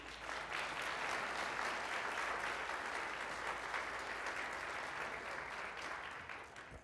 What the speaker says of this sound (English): If you can help me with a round of applause.